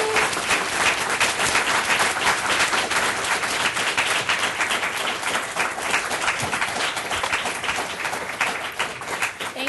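Audience at a student faculty reading applauds after a student reader, dense continuous clapping from a full room holding steady and loud throughout.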